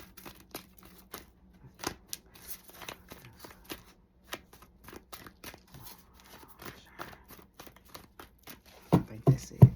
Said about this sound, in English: I gotta get that shuffle gotta be right